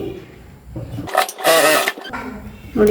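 A sewing machine stitching a half-shoulder blouse runs in two short whirring bursts with pauses between, close and fairly loud, with no talk over it.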